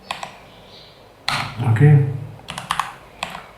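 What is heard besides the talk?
typing code on a computer keyboard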